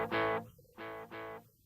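A ping pong delay audio effect on a sustained harmonic tone, sounding as three repeating bursts separated by short gaps, bouncing between left, right and center.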